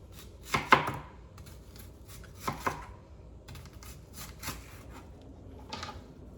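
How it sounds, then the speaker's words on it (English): A knife chops onions and garlic on a cutting board in a few sharp, scattered strikes with pauses between them, close and moderately loud against a quiet room. "every time I cut onions and garlic actually, when I slice them"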